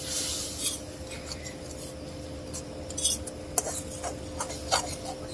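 A spoon scrapes and stirs turmeric and chili in a pan while frying spices for hilsa fish, with irregular metallic scrapes and taps over a steady low hum, fairly quiet and close.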